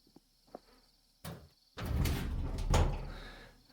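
In a video game, a locked cellar door is tried: a few faint clicks, then a sharp rattle and a longer heavy wooden rattling and thudding as the door holds fast, close and loud.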